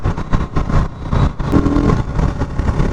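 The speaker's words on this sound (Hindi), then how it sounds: "गियर बहुत स्मूथली, गियर बहुत ईजिली शिफ्ट हो रहा है" A 2021 KTM RC 200 BS6 motorcycle engine pulling through gear changes, a loud, close, buzzing exhaust that rises and dips as the revs change, with brief breaks between gears and no talk.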